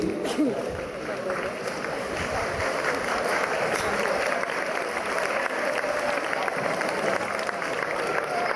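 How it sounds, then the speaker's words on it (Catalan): Schoolchildren at a Father's Day school event clap in a continuous, busy patter of many small hands, with voices talking over the applause. "ja està bé, aplaudiu"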